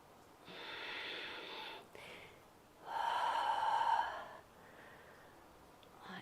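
Deep breaths drawn in and pushed out during a yoga squat flow, two long loud airy exhales with a softer breath between, close to the mic and without talk.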